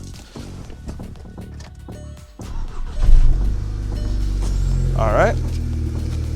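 Volkswagen GTI engine cranks and catches at about three seconds, then settles into a steady, fairly loud idle that runs to the end, with someone speaking briefly before it starts.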